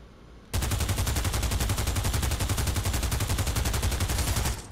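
A PP Bison submachine gun fires one long unbroken automatic burst in the VR shooter Pavlov VR. The shots come as a rapid, even rattle, loud and close, with no talking over them.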